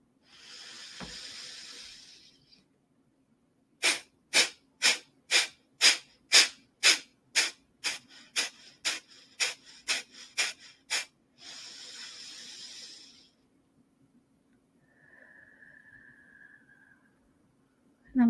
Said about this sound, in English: So we do the 15 out breaths, and then we'll do 2 deep breaths in, and then we'll do another 15 out.